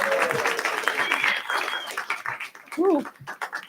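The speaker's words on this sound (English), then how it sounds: "How about a round of applause for our Pastor Justin?" A crowd claps and cheers at a church service while a voice speaks over the applause, with a whoop rising near the end.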